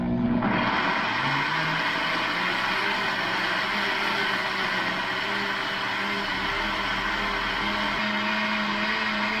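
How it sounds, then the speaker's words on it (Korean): A blender motor whirs steadily and loudly at close range grinding pear and apple, a continuous grinding drone with a slight shift in pitch as the fruit breaks down. "왜냐면 믹서기에 갈아줘야 되니까요."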